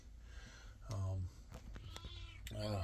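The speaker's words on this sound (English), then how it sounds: "look at the little kitty cat" A small kitten meows several times up close, high drawn-out cries with short gaps between them, heard over faint room noise.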